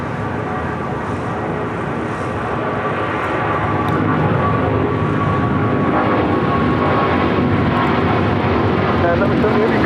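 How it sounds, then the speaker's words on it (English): A United Airlines Boeing 777-200 jet takes off at LAX, its engine roar building and staying loud and close, with people talking over it. "All right, we got that 777 now taking off."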